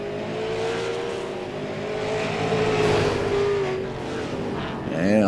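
A late model race car loud and close on the oval at Langley Speedway, its engine droning steadily through turns 3 and 4, with a rising rev at the end.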